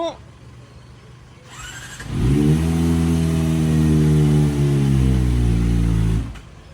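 A Kawasaki ZX25R motorcycle engine rises from a low idle into a loud, sustained high-rpm rev held for several seconds, then drops off abruptly, close by.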